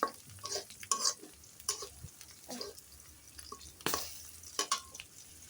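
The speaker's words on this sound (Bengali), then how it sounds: "এখন ঢেলে দিবে কচু শাকগুলো" Taro leaves tossed into a hot pan fry with a soft sizzle while a utensil stirs and scrapes in irregular clattering bursts, close up and without speech.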